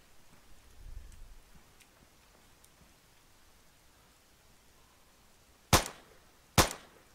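A .50 caliber gun firing in a military shooter game: two sharp, loud shots about a second apart near the end, following several seconds of quiet background hiss with faint distant pops.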